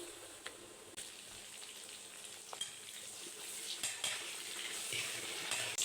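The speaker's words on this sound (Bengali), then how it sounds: "এবার আমি টমেটো দিয়ে দেব" Tomatoes are stirred into frying onions and black cumin in oil for a pabda fish curry, giving a quiet continuous sizzle with scattered spoon taps and scrapes that grows slightly louder toward the end.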